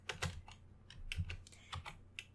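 Someone types on a computer keyboard while looking up a character, giving a quick burst of crisp, close key clicks in an irregular rhythm with no talking.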